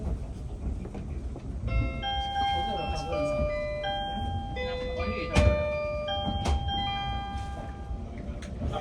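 At a station, the SL Yamaguchi steam train gets ready to depart while a bright chiming melody plays over a low rumble of rail noise, broken by a sharp clank midway, with voices faintly underneath.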